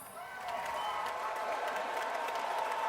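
Crowd applause and cheering from an audience willing on a player named Tim, a broad, steady wash of clapping that swells in the first half-second and then holds at a constant level with no clear voices.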